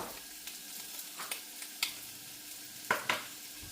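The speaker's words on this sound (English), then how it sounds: "I'm going to saute this for a couple minutes until it's soft." Onions and garlic sauté in hot oil for chicken afritada, giving a faint steady sizzle with several sharp scraping clicks of a spoon stirring the pan, close and alone without talk.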